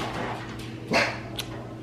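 Dogs let out a single loud bark near the middle, followed by a quieter yip, against a low steady indoor hum.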